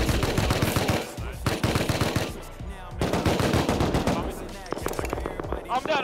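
Rapid bursts of AK rifle fire in a video game on a contested vanilla survival server, loud dense automatic volleys with short gaps, near and continuous across the clip.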